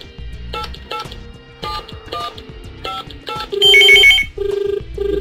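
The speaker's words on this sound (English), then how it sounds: "Now I am going to call this device remotely from my mobile phone." A mobile phone calling into an IVRS circuit device: a rhythmic electronic ringtone of repeating beeping tone bursts, loud and close, ending in a denser high warbling section before the pattern resumes.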